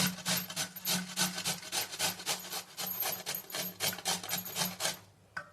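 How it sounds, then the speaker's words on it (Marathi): Cauliflower rasped against a kitchen grater in quick, even back-and-forth strokes, a close and steady scratchy rhythm that stops near the end. "हे पहा, फ्लॉवर सुद्धा असा किसणीवर छान किसला जातो."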